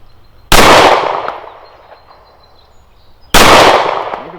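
Two loud, sharp pistol shots from a Browning Hi-Power fitted with Robar and Cylinder & Slide enhancements, fired about three seconds apart at a shooting range, each with a long echoing decay.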